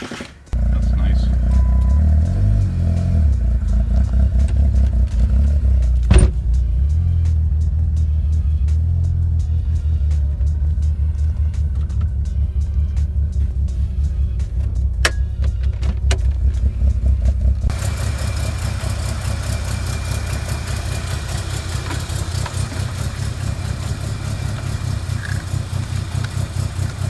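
A Ford Lightning pickup truck engine, in for a compression test that it fails, cranks and catches, then settles into a loud steady idle with a deep low rumble, heard close up with someone talking over it.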